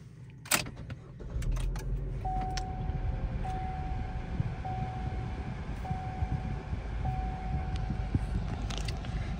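A base-model 2020 Chevy Trax engine starts with a key and settles into a steady low idle rumble, with a brief click at the start and faint repeating chime tones over the running engine.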